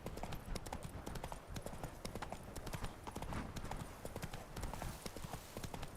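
Hoofbeats from the horse Roach galloping in the video game Witcher 3, a steady rapid clip-clop that runs loud and close through the whole stretch with game ambience behind it.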